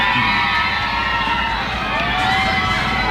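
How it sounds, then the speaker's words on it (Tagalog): A large crowd in the Philippines shouts and cheers for Pope Francis's arrival at Malacañang, a continuous loud roar of voices mixed with high children's shrieks and whoops, with no break. "Naririnig din na po ang sigawan niya."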